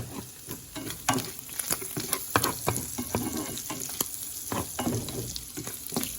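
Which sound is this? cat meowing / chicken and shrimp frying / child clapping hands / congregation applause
chicken and shrimp frying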